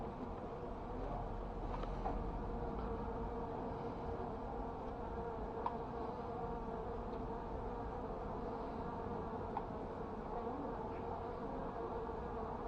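A hornet flies inside an anti-hornet tent, a steady droning buzz that hums continuously over a low background rumble, fairly faint and with no voices.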